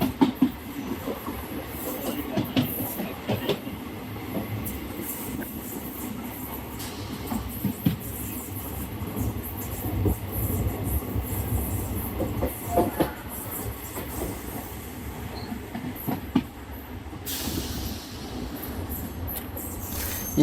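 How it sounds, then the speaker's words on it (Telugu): A DEMU passenger train runs into Medchal Junction station, a steady close rumble of wheels with rhythmic clickety-clack and brief squeals over about twenty seconds, with no talk. "ఇప్పుడే మన ట్రైన్ మేడ్చల్ జంక్షన్ రైల్వే స్టేషన్లోకి వెళుతోంది"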